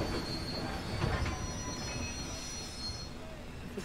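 A train rolls along the rails with a thin metallic wheel squeal above a steady low rumble, heard from a moderate distance, in a TV drama scene.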